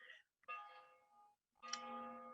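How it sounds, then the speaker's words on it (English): Church bells ring in a few tonal strikes that swell and slowly fade, with short silent gaps between them. "my church bell is"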